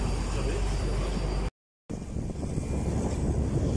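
Strong wind roaring over the open sea aboard a fishing boat, a loud continuous buffeting hiss with a short gap midway, close to the microphone.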